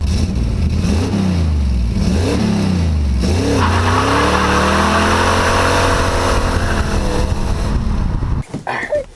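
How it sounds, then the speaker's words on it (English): A car engine cranks and runs loud and close while being started in gear, the engine note rising and falling steadily before cutting off abruptly near the end. "I'm gonna try and start it up in gear and shut it off, and then put it in gear again and start it up,"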